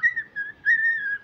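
A young pet mynah bird whistles a sustained, slightly wavering tone in two close phrases, near and clear with no talking.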